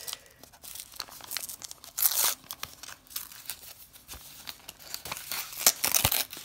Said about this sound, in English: let's open it up and see what's inside.